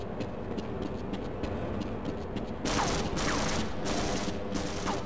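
Gunfire in the Half-Life video game, a few bursts of rapid shots that become louder and denser midway through, heard over a steady background rumble.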